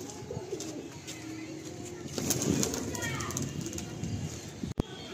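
A set of black Madrasi pigeons with white markings around the eyes taking flight, wings flapping in a soft burst that swells midway, amid low background murmur and faint bird calls.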